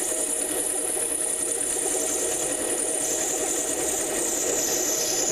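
A 7x10 mini-lathe parting off a small washer, a steady mechanical motor drone with a whining, vibrating hum that holds constant throughout, fairly close and with no talking.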